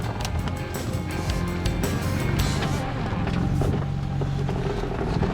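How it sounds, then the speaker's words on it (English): A Jeep on long-arm MetalCloak 4.5-inch lift crawls off road in 4-low first gear, a steady low engine drone with continuous rumbling, clattering and bumps from the rough trail, close and unbroken. "4-low, let's just put it in 4 low, first gear, and start crawling through here and see how everything feels."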